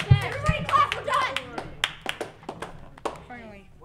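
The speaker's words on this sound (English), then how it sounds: "Everybody clap." A junior high audience of sixth through eighth graders clapping at the close of a school talk show: scattered, uneven hand claps that thin into separate sharp claps, with children and adults talking over them nearby.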